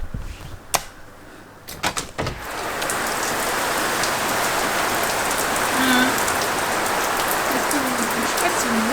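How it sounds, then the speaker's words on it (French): Heavy rain falling outside, a dense steady roar of drops that starts after a few knocks and a door-like slide, then continues loud and unbroken with a few faint chirps over it. "Je sais pas si vous voyez hein, comment il pleut là."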